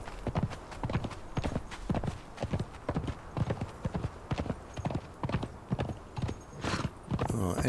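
Rhythmic clip-clop of horse hooves while riding in the video game Conan Exiles, evenly spaced beats continuing throughout, with a brief whinny near the end.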